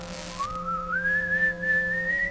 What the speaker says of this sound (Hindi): एक अजीब सी सीटी जैसी आवाज, जिसे उन्होंने स्पेस म्यूजिक का नाम दिया।